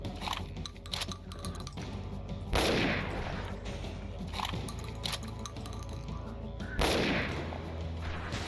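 Gunfire in the video game Ashes 2063 plays as two loud, broad blasts a few seconds apart, each trailing off slowly, over a steady layer of game sound with faint clicks.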